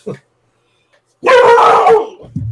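A pet dog gives one loud, drawn-out bark or yowl close by, with short quiet gaps around it and a faint voice at the edges.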